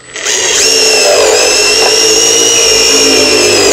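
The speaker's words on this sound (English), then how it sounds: "I'm gonna use my self screw straight in, and then I'm gonna use pull it out, and I put the rivet on." A power drill whines steadily as it drives a self-tapping screw straight into hollow metal tubing on an edger trimmer, rising quickly to a loud, sustained high-pitched spin that runs close and alone.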